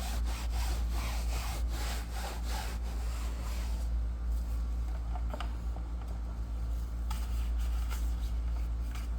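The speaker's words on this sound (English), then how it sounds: "So I scrub here, as you can see, with my trusty old mitt." Repeated close rubbing strokes come from a wool mitt scrubbing a car seat during interior detailing, fast and raspy at first, then softer and more scattered.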